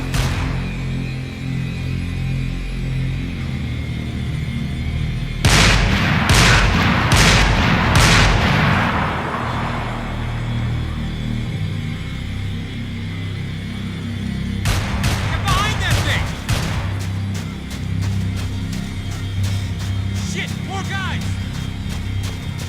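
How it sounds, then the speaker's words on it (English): Gunfire during a Max Payne 3 video game shootout: loud bursts of shots from about 5 to 8 seconds, then a rapid string of sharp cracks from 15 to 22 seconds, over steady game music and rumble. "Laying down fire!"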